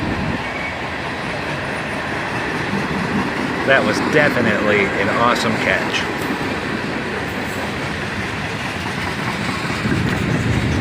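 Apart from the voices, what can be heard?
freight train led by SD50-3 locomotive accelerating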